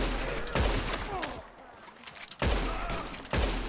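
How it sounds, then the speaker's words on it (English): Gunfire in the video game Red Dead Online: loud, dense bursts of shots around a short quieter lull, then a renewed volley near the end. "No, he was shooting at me."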